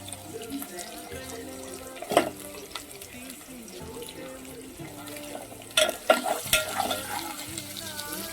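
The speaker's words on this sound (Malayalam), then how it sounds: "നമുക്ക് ഇതിലോട്ട് പച്ചമുളക് ഇട്ട് കൊടുക്കാം." Green chillies go into a pan of softening onions, giving a faint sizzle under stirring, with a few sharp clinks of a utensil against the pan.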